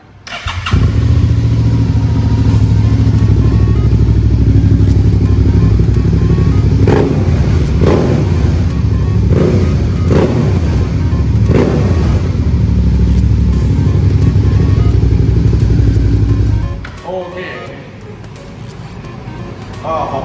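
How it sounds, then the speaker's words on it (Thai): A Suzuki V-Strom 650 motorcycle engine runs loudly up close, revving repeatedly in short bursts before dropping back to a quieter idle near the end. "นี่เสียง เสียงของเครื่องยนต์นะฮะ"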